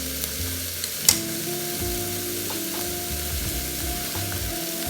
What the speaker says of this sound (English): Okay, I'm going to add the rice.